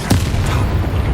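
A spell explosion in Hogwarts Legacy lands as a loud, deep boom with a sharp initial crack, followed by a heavy rumbling low-end tail that sustains through the short moment.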